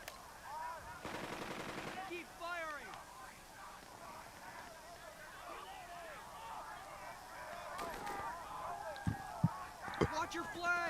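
Bursts of rapid gunfire crackle through a World War II Sicily beach battle in the video game Burden of Command, with a long rattling burst early, sharper shots near the end and busy battlefield noise throughout.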